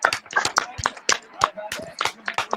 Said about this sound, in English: I'm gonna clap for 5 minutes now.